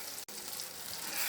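Tomato puree with salt sizzles steadily in a pan while being mixed, a close, soft frying hiss with a brief gap in the middle.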